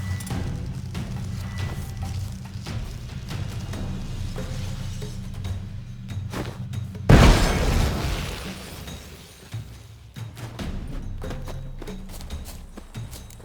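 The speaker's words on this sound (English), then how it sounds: "Throw a bomb." A bomb blast from The Witcher 3 during a training scene at Kaer Morhen: one loud, sudden burst that decays over about a second, set against a steady low game backdrop with faint footfall-like clatter.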